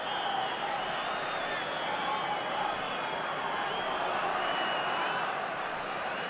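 A crowd of 50,000 roars at the 1989 Republic of Ireland v Spain football match, a dense, steady wash of cheering and noise that holds at an even level throughout.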